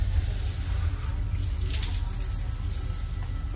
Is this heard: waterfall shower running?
yes